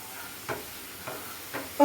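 Spice powders such as coriander and chilli sautéed in a pan, a soft low sizzle broken by three gentle scraping stir strokes spaced about half a second apart, quiet and close.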